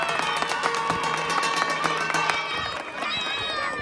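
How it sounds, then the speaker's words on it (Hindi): Audience applause at a Grandparents' Day celebration in a school hall, steady clapping from a crowd lasting throughout, fairly close, with some voices mixed in. "तालियां बजाओ"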